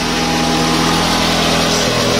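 A Toyota Camry 2.4L 2AZ-FE engine idles after a cold start, with a loud, steady hum and a fast, even mechanical ticking close by.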